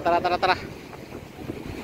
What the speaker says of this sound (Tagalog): Ay, lakas ng hangin. Tapos ang lakas ng alon.